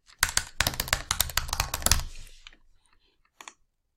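A quick burst of keystrokes on a computer keyboard as a password is typed, a rapid close clatter of about two seconds, then a couple of isolated taps after a pause.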